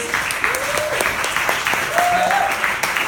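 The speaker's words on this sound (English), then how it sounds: "Big round of applause for all our Ward 8 teachers." An audience at a spring benefit for DC teachers applauds for Ward 8 teachers, a loud, close burst of clapping with cheers and voices mixed in throughout.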